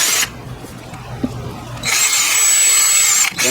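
A power drill whirs in two bursts while unscrewing bolts on a GY6 150cc Chinese scooter engine during top-end disassembly, loud and close, with a quieter pause of faint clicks between the runs.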